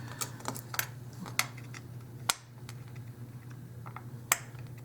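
A knife chopping miniature dollhouse radishes into tiny pieces gives a series of sharp, quiet clicks and taps at an irregular pace over a low steady hum, with no voices.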